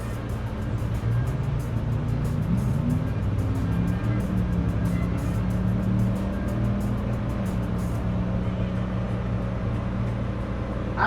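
Engines of a station wagon and a pickup truck at a drag racing car show, a steady loud motor roar with rising and shifting tones that runs continuously throughout.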